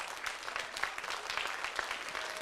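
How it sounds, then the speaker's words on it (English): An audience applauds at a contemporary classical concert of living composers' works, a sustained, even wash of clapping from a mid-sized crowd heard from a moderate distance. "We love your applause."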